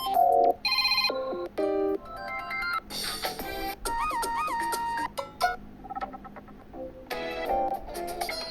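Default ringtone on an Android 4 phone, a loud, bright electronic melody of quick chiming notes, played alone and clearly up close.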